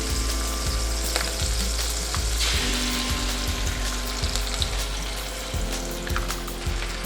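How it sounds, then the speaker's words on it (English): Beaten eggs scramble in a frying pan as they cook for Indonesian fried noodles, giving a loud, continuous sizzle close up, with a utensil scraping and tapping the pan at intervals and no voices. "And just scramble it in a pan."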